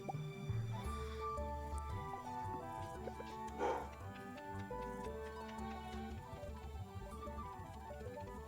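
A pet dog barks indoors, a few scattered yaps sitting under steady ticking and melodic Stardew Valley game music. The barks stay mid-distance and partly masked.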